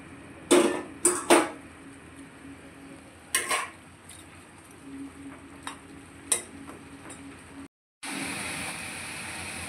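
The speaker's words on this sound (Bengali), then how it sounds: "এবার ঝোলটা ফুটে উঠেছে, এবার মাছগুলো, ভেজে রাখা মাছগুলো দিয়ে দেবো।" Fried amudi fish go into a boiling curry gravy seasoned with turmeric and chilli powder, with clinks and clatters of a utensil against the pan over a soft simmering bed. After a brief cut, a steady close hiss and bubbling take over, with no talking.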